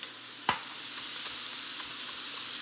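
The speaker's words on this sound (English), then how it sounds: "While my mushrooms are sauteing" Mushrooms sautéing in a pan give a steady, soft sizzle and hiss, opened by a single sharp clack of a utensil against the pan.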